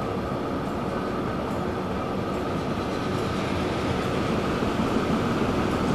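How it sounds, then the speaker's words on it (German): A tram running through a city in the video game Transport Fever 2, a steady, dense rolling rumble with faint rail clatter that holds constant at moderate loudness throughout, with no talk over it. "Und da schauen wir uns mal die Straßenbahn an."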